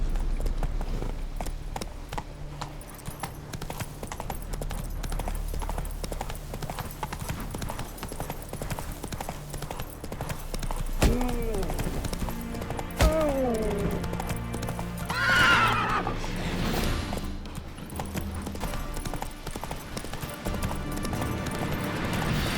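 Roach the horse gallops with rapid, steady hoofbeats in The Witcher 3, with a whinny partway through and game effects underneath.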